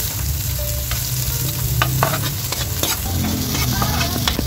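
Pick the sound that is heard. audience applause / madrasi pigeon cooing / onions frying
onions frying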